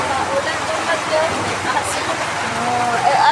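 Heavy rain pours in a continuous wash as strong wind blows, with speech over the downpour.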